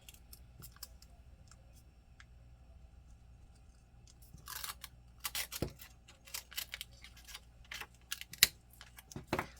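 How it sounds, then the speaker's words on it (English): An X-Acto knife slices washi tape on a planner page, giving faint, close scratchy cuts and small taps that come in scattered bursts over a quiet background, with no talking. "I'm going to grab my little X-Acto knife here, and I'll use it to cut instead."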